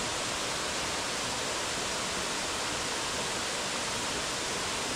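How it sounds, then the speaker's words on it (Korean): Steady, broad rushing of water pouring continuously from a small waterfall beside Nakcheonji Falls at Sanjeong Lake, flowing nearby, with no other sounds breaking through. "낙천지 폭포 옆으로 아담한 폭포 하나가 조용히 흐르고 있어요"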